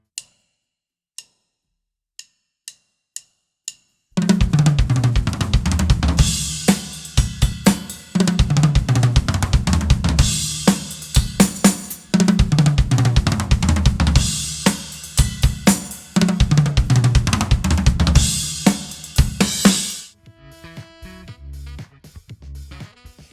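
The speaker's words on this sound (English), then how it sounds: "And at a faster tempo, the fill sounds like this." Fast drum fill on a large drum kit, with left-hand notes added between right-hand strokes: a dense, loud run of rapid tom and snare hits with cymbal crashes after a few sparse clicks, ending in a short ringing tail.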